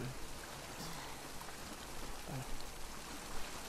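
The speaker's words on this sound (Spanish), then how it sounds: "En Seattle que siempre llueve." Continuous rain patters on surfaces in Seattle in The Last of Us Part II video game, a steady wash of drops with faint low thuds underneath and no speech.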